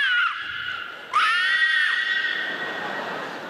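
A voice imitates an ironing board letting out a scream: two shrill, wavering, whinny-like cries, the second louder and held longer before trailing off.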